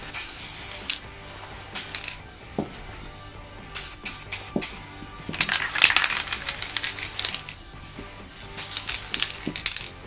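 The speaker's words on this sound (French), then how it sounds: "Il faut vraiment respecter 25 à 30 cm pour pulvériser" Short hissing bursts of spray paint repeat at irregular intervals, with faint clicks and rattles between the sprays.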